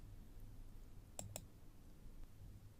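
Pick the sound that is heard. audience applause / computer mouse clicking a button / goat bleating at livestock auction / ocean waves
computer mouse clicking a button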